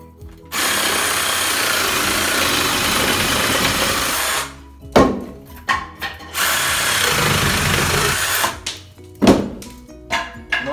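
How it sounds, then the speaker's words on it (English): A Bosch 18V cordless sabre saw fitted with a metal blade trims excess wood. A loud, close buzzing cut runs for several seconds, then stops, followed by clunks and shorter bursts of cutting. "we've got Sabre Saw here. Just got a bit to chop off from over here, excess."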